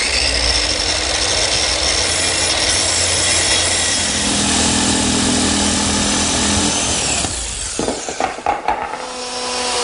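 Power tool cutting a through hole in wood for a router plate, a loud sustained whirring cut that shifts pitch midway, then breaks into a few sharp clunks and rattles as the cut finishes.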